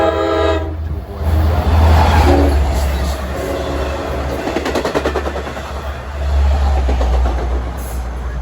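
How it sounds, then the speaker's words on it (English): A Long Island Rail Road commuter train passes the New Hyde Park Road grade crossing at evening rush hour with a loud rumbling roll, rhythmic wheel clatter and a brief horn at the start. "this should be train 2062 to Ronkonkoma"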